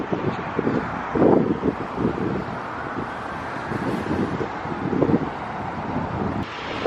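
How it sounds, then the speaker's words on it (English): Strong outdoor wind buffets the microphone among swaying palm trees, a steady broadband roar with stronger gusts, near and loud throughout with no talk. "it is getting really windy"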